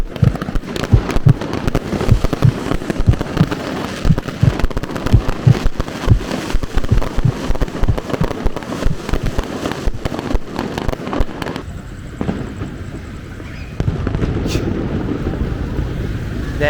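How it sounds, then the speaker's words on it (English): Rapid strings of firework bangs crackle and pop nearby in a street in Sihanoukville, Cambodia, on Chinese New Year, dense and loud, with wind buffeting the microphone, then the barrage thins out. "fireworks going off in the road."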